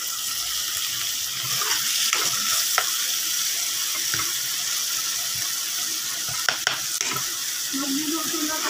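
Spaghetti pasta cooking at home, with steady frying sizzle and stirring clatter filling the kitchen, a few sharp utensil clinks against the pan, and running-water noise in the background; no one speaks.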